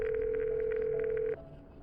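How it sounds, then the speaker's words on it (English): A game-show phone-a-friend call sounds as a single steady electronic tone, clean and fairly loud, holding for over a second before cutting off abruptly into quiet room hiss. "let's see if we can get Don on the phone"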